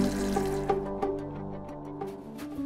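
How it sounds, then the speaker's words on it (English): Water rinses an OXO 12-cup coffee maker's carafe, a soft steady pour and splash with faint sloshing over a low musical background, quiet and close. "Rinse thoroughly."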